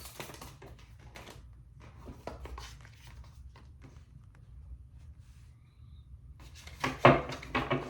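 Tarot cards are shuffled in quick, soft riffling bursts and taps, fairly close and quiet, with a louder flurry near the end.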